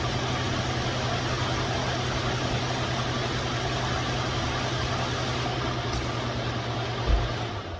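A 2013 Ford F-150 idles up close, a steady low engine hum with broad rushing noise throughout and a small knock near the end.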